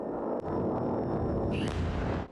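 Night-time explosions from Patriot missile interceptions: a deep, sustained rumbling roar with a sharp burst near the start and another crackling blast later, loud and close, with no voices.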